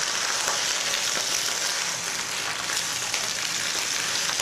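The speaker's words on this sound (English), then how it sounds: "cooking this vegetables in high heat. Do not panic, slowly stir it, but just to avoid the burn." Ginger, onion and spring vegetables stir-fried on high heat, giving a loud, dense, continuous hissing sizzle like heavy rain, with faint stirring scrapes and no talking.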